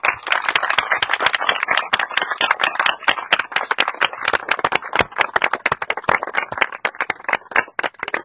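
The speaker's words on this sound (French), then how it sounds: "Nous pouvons tous vous applaudir." A small crowd at an outdoor village festival claps by hand, irregular close claps forming a steady patter that thins and swells over several seconds.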